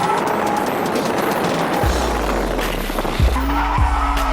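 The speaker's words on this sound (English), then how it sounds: "All this was done with the car in 4-wheel drive mode, showing just how good Dom is behind the wheel of a GT-R" Nissan Skyline R34 GT-R with 600 hp, driven hard in four-wheel-drive mode, squealing its tires in loud skids over a rumbling engine, with several sharp whining bursts near the end.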